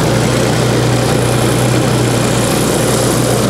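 A Toyota Tacoma truck engine with a newly installed radiator idles steadily at close range, a continuous low drone with a fan-like whir over it and no talking.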